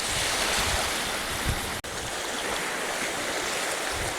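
Calm sea at Ballydowane Cove on the Copper Coast washes steadily over rocks as a constant, fairly loud broadband surf hiss, with one brief dropout and no talk.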